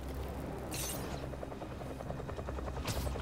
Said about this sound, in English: Is that a chopper?